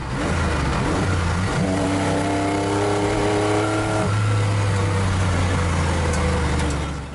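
A DIY replica Lamborghini accelerates hard, its engine note climbing through the revs, dropping at a gear change, then rising again, loud and steady from inside the car.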